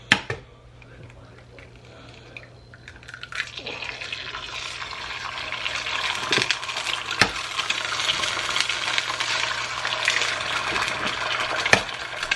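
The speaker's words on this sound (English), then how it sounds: "I just got a little oil heating up in my pan, and then I'm just gonna fry up eggs" Eggs frying in a little oil in a pan: after a few quiet seconds a steady sizzling hiss builds and carries on, with occasional small clicks and knocks.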